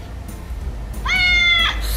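A single clear cat meow rises and falls from a magic picture book, close and loud over a low background hiss.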